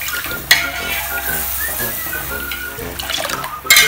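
Milk and roasted vermicelli for semiya payasam are stirred in a pan, with a spoon scraping and sloshing alongside a soft bubbling sizzle and a few sharper clinks. No one speaks.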